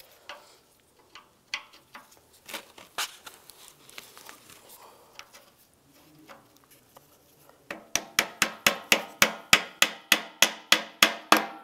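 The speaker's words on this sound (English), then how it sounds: "Might have to tap them on with a little hammer." A small hammer taps radiator mounts on a 1999-2005 Volkswagen Jetta, first in scattered light knocks, then in a quick steady run of about a dozen sharper taps close by.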